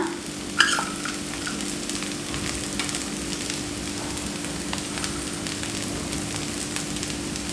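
A garlic cheese dosa sizzles on a hot pan in sesame oil as chopped garlic is scattered over it, giving a steady moderate crackle with a sharp clatter near the start and light scrapes.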